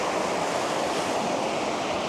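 River flowing beside a campsite near Panther Creek Falls, a dense, steady rushing wash close by, with some wind buffeting the microphone and no voices.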